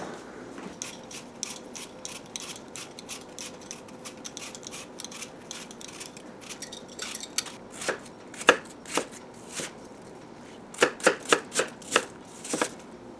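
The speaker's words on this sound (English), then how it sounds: "Next I need to peel and chop 8 cups of golden delicious apples." Golden Delicious apples being peeled and chopped on a board, a steady run of soft scraping cuts giving way to sharp, close knife strikes on the board, some in quick clusters, with no talking.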